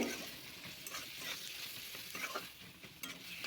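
Garlic added to softened onions frying for a chicken curry, with a steady close sizzle of hot oil and faint stirring scrapes throughout.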